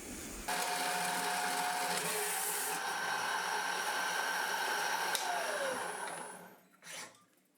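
A machine cuts metal stock to length with a continuous, loud, buzzing grind that holds steady for about six seconds, then winds down to quiet, followed by a short final whir.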